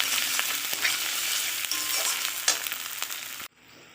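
Tomato and spices, turmeric among them, frying and being stirred in a pan for tel koi fish curry: a loud, continuous sizzle with scraping stir strokes, then an abrupt cut to quiet near the end.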